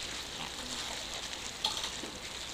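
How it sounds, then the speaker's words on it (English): Prawns fry in a pan with a steady, even sizzle throughout, fairly faint and with no talk over it. "Right now, we're frying the prawns already."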